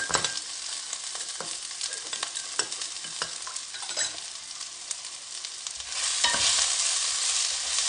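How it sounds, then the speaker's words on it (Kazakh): Steady crackling sizzle of food frying in a pan, with occasional scraping clicks as it is stirred; it swells louder near the end. "Мінекей қуырып болды."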